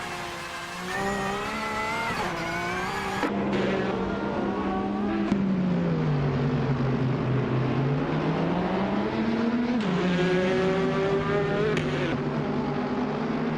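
Race cars in a racing video game duel side by side, engines droning and rising and falling in pitch continuously, loud and close with shifting revs throughout.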